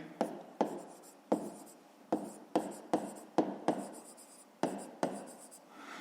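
Pen strokes on paper come as a series of about a dozen short, crisp scratches in an uneven rhythm, close up and alone, while numbers are written down during a math exercise.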